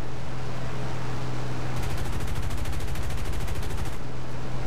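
A .50 caliber machine gun firing from a Kingcobra fighter plane in the War Thunder video game: a steady sustained burst of rapid, evenly spaced shots over a constant loud engine drone, close and heavy, with no talking.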